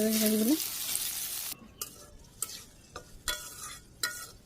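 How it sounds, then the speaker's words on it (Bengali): Okra being stirred and fried in a pan, a broad sizzle at first, then quieter crackling with a few sharp scrapes and clinks of a spoon against the pan. "নাড়াচাড়া করে ভাজি করে নিই ঢেঁড়স ভাজি হয়ে গেছে"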